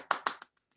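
Brief scattered clapping from a few people in an online meeting, two quick bursts then a smaller tap, short and moderately loud before fading to silence.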